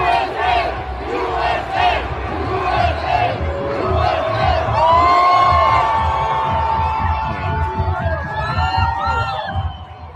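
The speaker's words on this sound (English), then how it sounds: "the Iranians are chanting USA" Loud crowd of Iranians at a rally for Prince Reza Pahlavi, cheering and chanting USA in rising waves of shouts and whoops, close and sustained.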